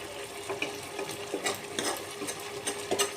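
Ash gourd pieces stirred through thick sugar syrup for morabba, with repeated utensil scrapes and soft wet clatters over a faint bubbling hum, fairly quiet and close.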